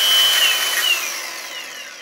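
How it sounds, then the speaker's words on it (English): Milwaukee 4.5-inch RAPIDSTOP and conventional angle grinders whine loudly at close range, a high steady motor tone that starts to fall away as it spins down. "So this is a conventional grinder versus the RAPIDSTOP version."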